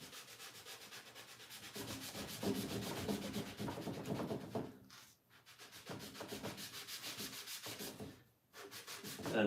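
A rag wipes wood stain onto a wood surface along a line, making close, continuous rubbing strokes with a steady back-and-forth rhythm and two brief pauses.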